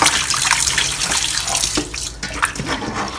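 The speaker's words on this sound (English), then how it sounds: "Drain the water off." Water pours and gurgles steadily from a bowl of pig large intestine being rinsed, a close, continuous rushing splash with small sloshes throughout.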